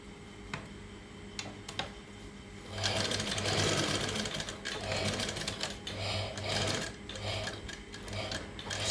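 A sewing machine stitching a folded lining edge set with stones, slow isolated stitch clicks at first, then a continuous fast mechanical whirring run with rhythmic ticking, close and clear.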